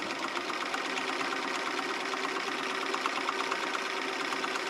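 A sewing machine stitches binding onto a quilt, running as a continuous, fast, even mechanical whir with a steady rattle, close and unbroken by speech.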